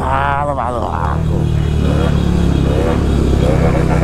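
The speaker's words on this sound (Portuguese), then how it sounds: "Nós tava em 5 motos agora, tamo umas 30." Several motorcycles, including a Honda Twister, drone loudly and steadily together in a group ride, with a voice shouting briefly over the roar near the start.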